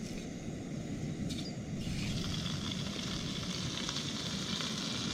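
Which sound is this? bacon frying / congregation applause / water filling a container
bacon frying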